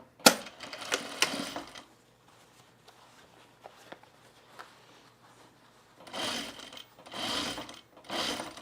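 Sewing machine stitching a yoke onto men's canvas cargo shorts, with two bursts of rapid mechanical whirring at the start and again near the end, separated by a quiet pause with faint handling clicks.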